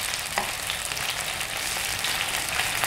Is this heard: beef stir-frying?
yes